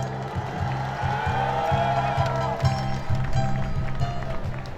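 Crowd at a street rally near the National Assembly applauds speakers taking the stage, a steady roar of clapping and cheers with a rhythmic drum-like pulse underneath.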